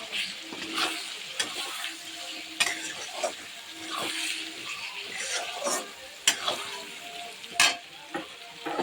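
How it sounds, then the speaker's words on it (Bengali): Spice paste with turmeric being sautéed and stirred in a small wok: steady frying sizzle with repeated scraping strokes of a spoon against the pan, close and moderately loud. "এবার মশলাটা শুধু কষাবো।"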